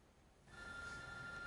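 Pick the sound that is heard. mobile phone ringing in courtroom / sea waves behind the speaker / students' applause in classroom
mobile phone ringing in courtroom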